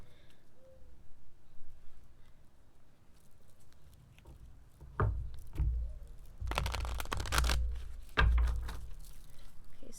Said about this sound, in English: I am going to shuffle regardless.